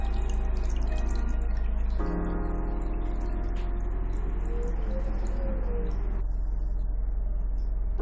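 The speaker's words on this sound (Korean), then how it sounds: "자, 그럼 물을 유입시켜 실험을 시작해 보겠습니다" Water pours in a steady stream into a model of an enclosed square space built for an air pocket experiment. The splashing gurgle is close and continuous, and its tone shifts partway through as the space fills.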